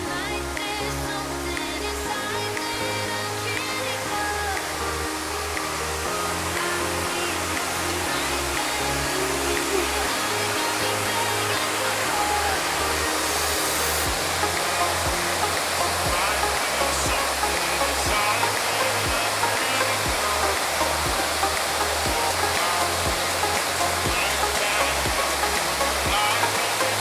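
A waterfall in Manyueyuan National Forest roars as a steady, unbroken rush, heard from a viewing pavilion above it, with a faint low repeating backing underneath.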